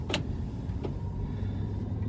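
Power windows of a 2008 Honda Accord Coupe V6 rolling up, a faint steady motor whir inside the cabin over a low idle hum, with a couple of brief clicks.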